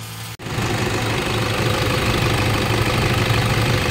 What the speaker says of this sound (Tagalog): umaandar na yung mga boss, yung Fortuner natin na ni-reker dito